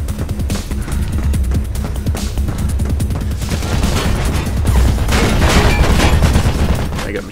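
Machine gun fire in the Mirror's Edge video game, continuous rattling bursts that build and grow louder in the second half, with game noise and a faint voice underneath.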